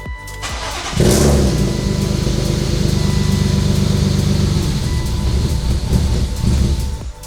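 A BMW E36 M3 engine cranks briefly, catches and fires, then settles into a loud, close, steady idle with a slight rise in revs, continuing for several seconds alone.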